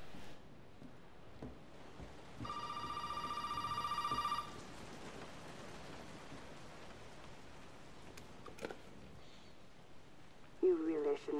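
A telephone rings in the survival horror game Resident Evil 7, one steady electronic trill lasting about two seconds over a quiet, rain-like background hiss, with faint game sounds around it.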